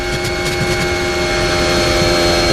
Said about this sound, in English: This is the sound of Lando Norris coming into Spoon